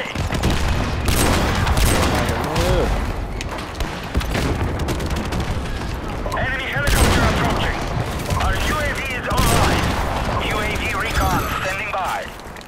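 Dense gunfire from a shooter video game match, with rapid bursts and booming shots over continuous battle noise, while a player talks excitedly throughout.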